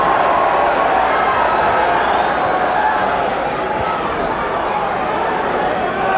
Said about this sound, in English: The crowd reacting to a Barkley punch that was not nearly as effective